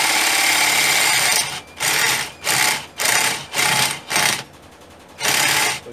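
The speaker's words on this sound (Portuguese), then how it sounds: "Fez o furo com facilidade, tá? Então, usando uma broca de 1 polegada." A Mondial impact drill-driver boring a hole with a 1-inch bit, loud close whirring in about six bursts of a second or so, separated by brief pauses.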